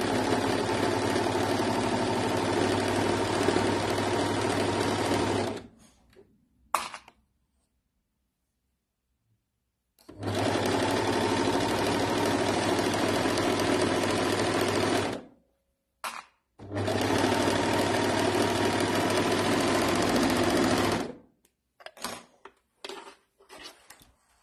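A sewing machine stitches the shoulder seams of a made-to-measure garment in three long, steady runs of fast mechanical whirring, each stopping abruptly, with brief quiet gaps and small clicks between them.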